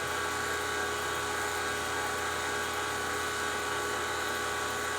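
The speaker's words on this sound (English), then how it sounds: "The vacuum to the 8 CFM vacuum pump is now off." An 8 CFM vacuum pump runs steadily while pulling a vacuum, giving a continuous, even mechanical whine and hum with a dense hiss and no change in rhythm from start to end.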